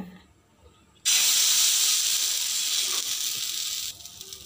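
Ragi dosa batter hitting a hot pan bursts into a loud, steady sizzle that holds for about three seconds, then drops to a softer hiss.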